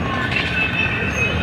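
A steady, loud rumble of a train at a railway junction station with a faint high squeal, continuous and close, like standing beside rail cars.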